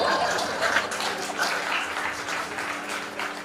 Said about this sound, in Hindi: आप जानते हो ये तालियां क्यों बजा रहे हैं?